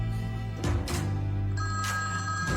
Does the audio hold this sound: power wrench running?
no